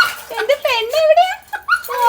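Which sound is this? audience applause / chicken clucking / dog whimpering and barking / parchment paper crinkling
dog whimpering and barking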